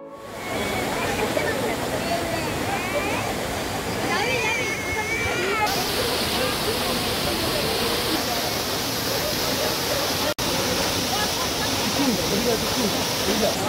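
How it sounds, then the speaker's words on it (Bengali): Seven Sisters Waterfall in North Sikkim, near Gangtok, pours down seven rocky steps in a steady, loud broadband roar that fills the whole stretch, with a voice talking over the rushing water. "উপর থেকে নিচ অব্দি 7খানা স্টেপে এই জলটা পড়ছে, যার জন্য এটাকে বলা হচ্ছে 7 সিস্টার ওয়াটারফল"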